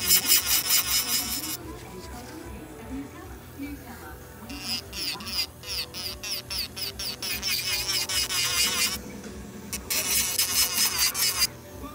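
Close, buzzing whir of a small electric nail drill grinding acrylic off a nail in repeated passes, with brief pauses and a voice talking underneath.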